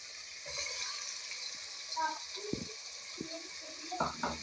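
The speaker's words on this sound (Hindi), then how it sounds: "अब हम इसमें डालेंगे ये हमारा टमाटर और प्याज" Tomato and onion go into chicken already frying in a pan, giving a steady soft sizzle broken by a few sharp stirring knocks and scrapes, with a faint voice in the background.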